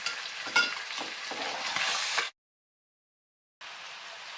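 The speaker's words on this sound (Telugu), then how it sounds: "ఒకసారి చికెన్ కలుపుకొని ఒక 5 నిమిషాలు మగ్గ పెట్టుకుందాం" Chicken curry being stirred in a pan, close sizzling and frying with spoon scrapes and stirs, cut by a stretch of total silence before the sizzle resumes.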